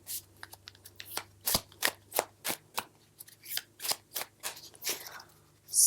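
Cards being riffled and shuffled in a steady run of crisp, fluttering bursts, close up, with no talking.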